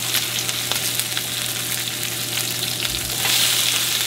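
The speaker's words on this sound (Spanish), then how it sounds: "Vamos a poner el tocino." Bacon frying in a pan for a cheesy jalapeño burger, a steady close sizzle and crackle running the whole time, growing slightly louder toward the end.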